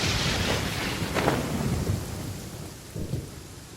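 Rain and thunder in the video game Genshin Impact: steady hiss of rainfall under low rolling thunder that swells early and again near the end, with no voices.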